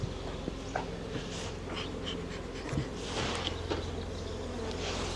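Honey bees agitated at an open hive in a Canadian beekeeping yard drone in a continuous low buzz, close and fairly quiet, with occasional individual bees passing nearer and small handling noises.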